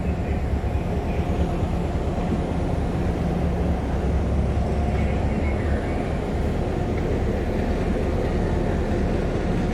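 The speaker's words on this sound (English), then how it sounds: "This is a train from the Monroe Rail Hoosier line." Historic train on the Monroe Rail Hoosier line in small-town Indiana, a steady low rumble and rolling hum that fills the whole stretch without let-up, with no clear horn or bell standing out.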